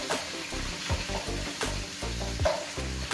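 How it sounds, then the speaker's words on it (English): Chicken frying for fried rice sizzles steadily in a pan, broken by repeated scraping stirs at an irregular pace, close and fairly loud with no talking. "Let that sizzle away for a minute."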